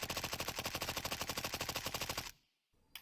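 A suppressed MP5 in a video game, heard from 500 units away, fires a fast steady automatic burst of sharp, evenly spaced shots for over two seconds, then falls silent before a faint noise starts.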